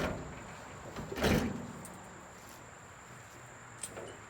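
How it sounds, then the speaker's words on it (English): A 2006 Mercedes Sprinter van's rear doors open with one short, moderately loud mechanical clunk and slide. A faint click follows, with no talking. "let's open up the rear doors."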